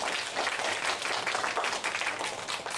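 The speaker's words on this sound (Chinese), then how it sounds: "来请各位给这个卡片掌声一下吧" An audience claps for a magic card trick at a science magic show, a full, continuous wash of applause from many people, moderately loud and unbroken throughout.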